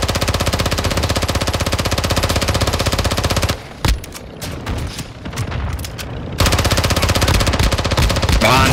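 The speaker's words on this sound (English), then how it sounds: "You are taking effective fire." Sustained machine-gun fire in the Call of Duty DMZ video game, a dense rapid stream of loud close shots that breaks off into scattered echoing bursts and booms before the continuous firing resumes.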